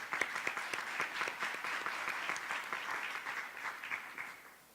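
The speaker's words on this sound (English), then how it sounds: "Let's give her another round of applause." An audience at a school district meeting claps for an educator, a steady round of applause of moderate loudness that tapers off at the end.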